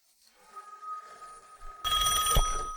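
A telephone rings, faint at first and then louder and closer near the end, with no talking.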